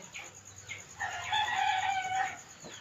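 A rooster crows once at moderate distance, a drawn-out call rising and falling over roughly a second and a half, with faint bird chirps around it.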